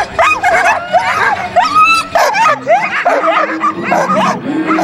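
A pack of sled dogs during a dog sled ride, barking, yipping and whining over one another continuously, loud and close.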